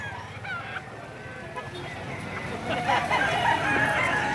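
A rooster crows among other fowl at a chicken seller's in Padre Garcia, Batangas, its calls rising over a steady wash of background noise, strongest toward the end.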